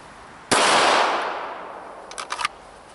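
A single sharp handgun shot fired right after drawing from a holster, loud and close with a long decaying tail, followed by a few quick metallic clicks and clatters.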